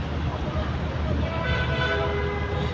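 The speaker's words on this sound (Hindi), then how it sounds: "ये ऊपर जा रही है मेट्रो गाड़ी" A metro train in Peshawar, Pakistan, rumbles past overhead with a steady, broad roar and faint metallic squeals, loud and continuous, mixed with a murmur of street noise.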